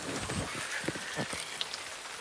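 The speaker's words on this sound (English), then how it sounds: "it started to rain." Rain falls steadily, a soft continuous patter with scattered, distinct drops tapping on a surface close by. No voices are heard.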